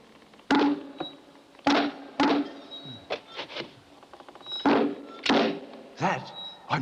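Someone bangs on a hollow wall, repeated loud thuds in uneven bursts of one or two knocks, some sharper and some duller, close by.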